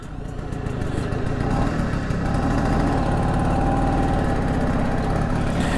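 A 1966 Piaggio Vespa 150 Super scooter's small two-stroke engine running steadily, close and loud with a buzzing, slightly uneven putter throughout and no speech.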